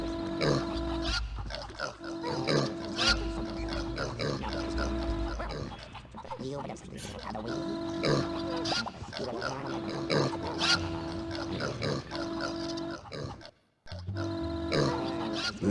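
Pigs oinking in the Warcraft Adventures video game, repeated grunts and snorts over a steady game music bed, with a voice talking in places and a brief dropout near the end.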